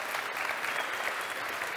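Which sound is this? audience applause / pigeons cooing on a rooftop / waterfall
audience applause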